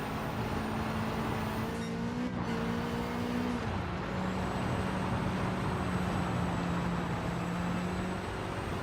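Race car engine in a sim racing game, a steady droning tone that shifts pitch as gears change, with road rumble underneath and no talking.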